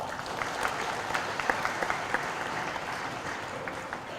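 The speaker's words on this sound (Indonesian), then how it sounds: "Tepuk tangan untuk Inla." Audience applause at a school parents' day event in Solo, a dense, steady wash of many hands clapping that holds evenly throughout without any talk.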